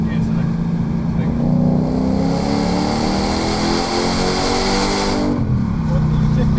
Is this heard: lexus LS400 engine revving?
yes